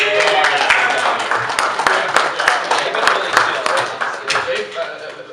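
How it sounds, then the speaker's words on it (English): Convention audience applauding the event staff, a steady wash of many hands clapping at moderate distance, with scattered louder claps and faint voices mixed in. "Give them a round of applause."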